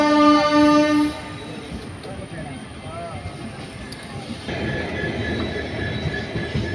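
A train runs into New Bongaigaon station, opening with a loud sustained horn blast, then a steady rumbling roll of wagons with faint wheel clatter, while a voice talks over it.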